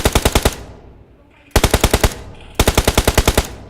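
Automatic gunfire in the Metro Royale game rattles out in three loud, close bursts of about six rapid, evenly spaced shots each, with short pauses between them.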